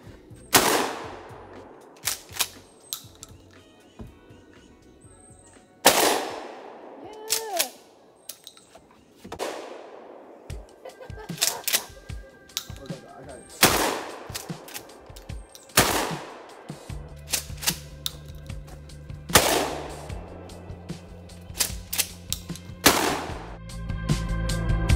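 Gunfire from a zombie shooting game, loud sharp shots fired singly and in rapid bursts at irregular intervals, with a low hum and faint background noise between volleys.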